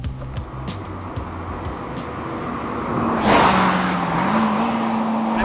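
A car engine pulls hard through the gears, its steady drone rising in pitch and growing louder midway, held continuously with no voices over it.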